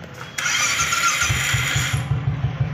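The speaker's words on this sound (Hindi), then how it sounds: "एक बार बाइक चालू कर लेते हैं फटाफट," A motorcycle engine turns over and catches, settling into a rough, pulsing idle nearby.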